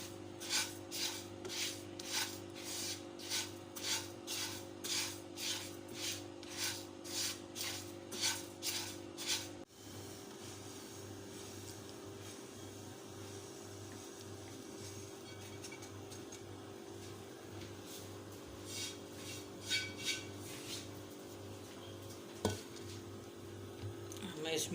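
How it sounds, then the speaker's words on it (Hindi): A spoon stirs melting sugar in a pan for chikki, scraping with a steady rasp: a run of rhythmic strokes, then quieter, looser scraping with an occasional clink, all close and fairly faint. "चमचा चलाते रहना है। ये चीनी मेल्ट होगी।"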